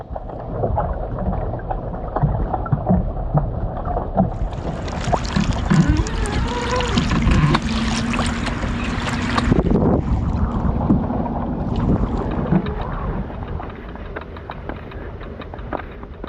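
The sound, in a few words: small boat moving on water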